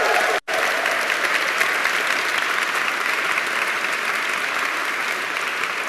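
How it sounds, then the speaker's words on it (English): Sustained applause from a sizeable audience at an MBA graduation ceremony fills the space: dense, even clapping that holds steady for several seconds after a brief cut near the start. "I want you to give a big applause for your mom and dad."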